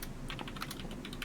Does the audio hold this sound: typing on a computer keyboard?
yes